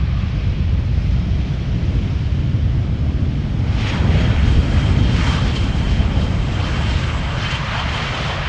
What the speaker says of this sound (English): A319 arriving from the Czech Republic, where it left from an hour and 15 minutes ago